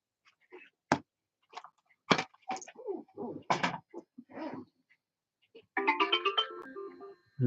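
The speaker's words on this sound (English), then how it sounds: "That's my phone going off." A mobile phone ringtone chimes out clearly in a rising melodic pattern near the end, following a stretch of sparse bumps and handling noises in a quiet room.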